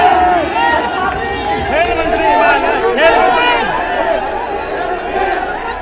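Loud, dense crowd noise from a large gathering around a wrestler and a politician, many voices shouting and chanting together in a continuous roar, with rising and falling swells of cheering throughout.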